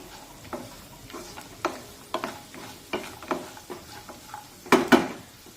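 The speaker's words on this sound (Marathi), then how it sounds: "आता लाल मिरची पावडर आणि हळद एखाद मिनिट परतून घेतल्यानंतर" Red chilli powder and turmeric sauté in a pan for vermicelli upma, heard as a faint sizzle under repeated light scrapes and taps of a spatula, ending with two sharper clanks against the pan.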